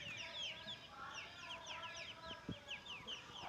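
Wild partridge (titar) chicks in a cage give a steady stream of high, rapid chirping calls, overlapping and continuous at moderate distance, with a faint thump and a low background hum.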